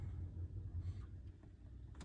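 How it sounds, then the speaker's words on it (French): A Peugeot 2008 1.6 BlueHDi 75 hp diesel engine turns over and settles into a steady low rumble, heard from inside the car, close and fairly quiet, with no talking. "Donc je démarre le véhicule de suite."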